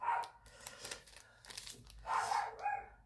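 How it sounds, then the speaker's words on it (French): A small dog barks from a balcony, several sharp yaps in short bursts, moderately near, with quieter gaps and faint rustling between them. "chez Ruby, ma petite chienne qui est sur le balcon, qui aboie, qui a dû voir un autre chien"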